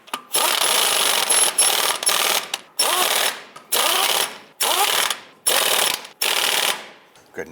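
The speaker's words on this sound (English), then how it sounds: "Once all of these are on, we're going to go ahead and snug them down." Ratchet snugging down the rear wheel lug nuts on a 1995-2001 Ford Explorer, heard as seven loud, close bursts of rapid clicking separated by short pauses, with no talking.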